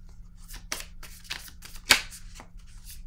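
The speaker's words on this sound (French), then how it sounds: "Bon, je vais piger une autre carte." Tarot cards are shuffled and drawn by hand, giving a string of papery riffles and slaps with one sharp snap near the middle, close up and fairly loud.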